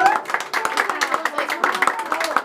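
Guests clap in quick, uneven bursts at a birthday party with a youth mariachi band, the hand claps close and crisp while voices chatter over them.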